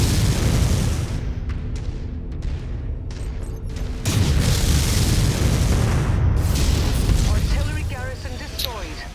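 Mech weapons firing in the MechWarrior 5: Mercenaries video game during an industrial demolition mission, heavy booming blasts and rumbling explosions filling the mix with steady bursts, while a player's voice is faintly present beneath.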